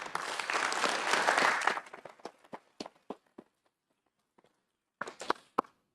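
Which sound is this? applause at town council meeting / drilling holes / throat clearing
applause at town council meeting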